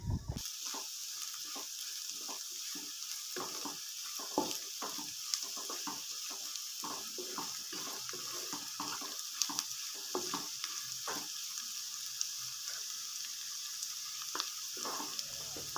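Potato curry with chili powder being stirred as it fries in a pan, a soft steady sizzle under a rapid run of light scraping strokes, close and fairly quiet, with no speech.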